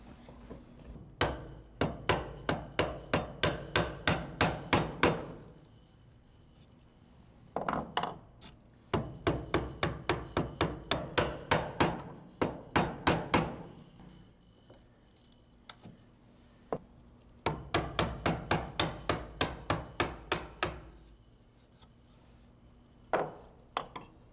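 A chisel is struck by a mallet in repeated bursts, squaring the ends of a mortise in a wood workpiece. The rapid sharp blows are close and moderately loud, with pauses between the bursts and no talk.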